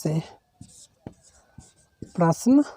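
Pen scratches on paper during a math lesson, a few short scribbling strokes between bits of spoken explanation by a teacher.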